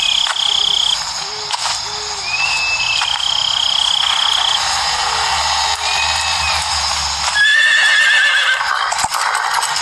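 A white horse whinnies in the video game Metal Gear Solid 3, giving several clear, high neighs and soft snorts over a game soundtrack of low ambient tones, with calls scattered across the clip and no talk.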